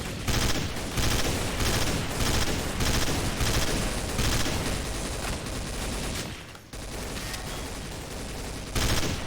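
Rapid rifle gunfire in Counter-Strike: Source, loud overlapping shots in steady bursts with one brief gap, no talking over it.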